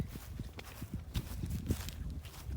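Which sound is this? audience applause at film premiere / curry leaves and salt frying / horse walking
horse walking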